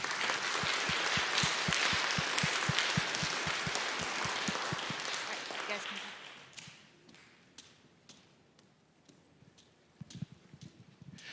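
An audience at a school awards ceremony applauds loudly and steadily for about six seconds, then the clapping thins and fades, leaving a few scattered taps in near-quiet.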